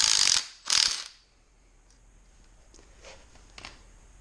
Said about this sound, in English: take this 10mm bolt out for the camshaft